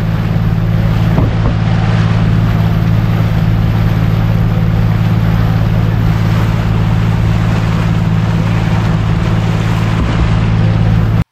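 A Hatirjheel water taxi motorboat in Dhaka runs with a loud, steady engine drone and rushing water, close and unbroken throughout.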